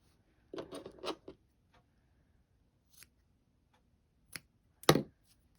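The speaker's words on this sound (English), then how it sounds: "Cut this end to a similar length as that end." Scissors snip through the end of a twisted cord, giving a few short, quiet crisp cuts separated by pauses, with no talking.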